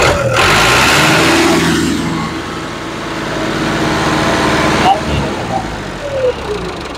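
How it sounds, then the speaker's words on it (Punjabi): Tractor engine revving hard, a loud surge that swells, eases and rises again, heard close with some voices mixed in. "ਇਹਨੂੰ ਰੇਸ ਦਿਓ।"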